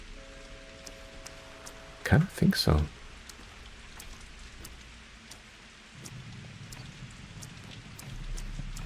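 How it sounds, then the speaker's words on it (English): Steady soft rain patters in the background of the video game Pathologic 2 while a person speaks briefly, with a faint low rumble later. "And is this the first time that it's raining?"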